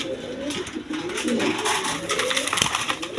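Colored pigeons cooing close by, a run of soft rolling coos with overlapping calls from several birds, fairly loud and without talk.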